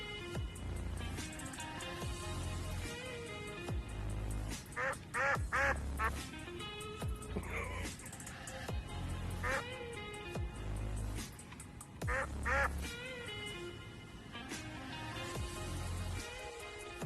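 Ducks quack on a lake crossed by a bike path in Belgium. Bursts of nasal quacks come in clusters over a low, regularly pulsing background sound.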